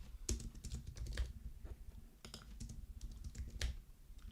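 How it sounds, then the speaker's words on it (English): Computer keyboard typing, a quiet, close run of fast, irregular key clicks that continues steadily with no talking. "Good typing, Harry."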